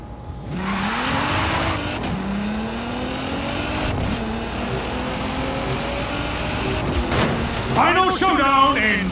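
A Nissan GTR races in a video game, its engine climbing through gear shifts with a steady rising drone, tire squeal near the end, and a voice speaking over it.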